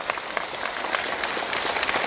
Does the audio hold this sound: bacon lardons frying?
no